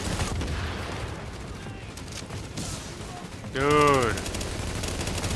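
Suppressing gunfire in the video game Tom Clancy's The Division, in the Madison Square Garden mission: dense, continuous rattling shots that fill the clip, with someone briefly speaking over them partway through.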